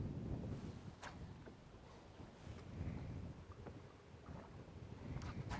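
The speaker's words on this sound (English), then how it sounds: "That little wind coming in like that helps big time." Wind blows across the water during a fall bass fishing trip, a soft, gusty rumble with faint splashes and knocks from the boat, quiet and with no talking.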